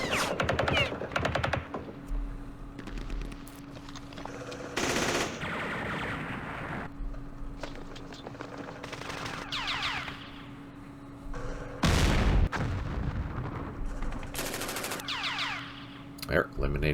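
Bursts of machine-gun fire and heavier blasts from a B-52 strike echo through a Vietnam War battle in the Campaign Series Vietnam strategy game, loud rattling volleys separated by quieter stretches with a low steady hum.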